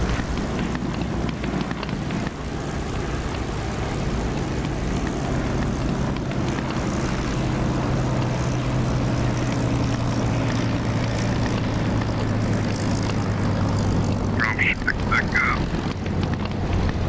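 An aircraft landing in the DCS flight-simulator game gives a steady, loud engine and propeller drone with a low hum that runs unbroken, with a few faint chirps near the end.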